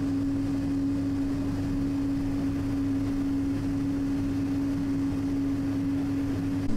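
A 29-year-old Boeing 777 taxiing out toward its runway holding spot, heard from inside the cabin as a steady low engine drone with a constant hum, no talk.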